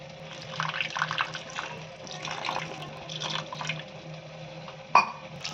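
Water poured and stirred into cornflour powder in a small bowl, a steady trickle with soft swirling and spoon clinks ending in a sharp tap, close, with no talking.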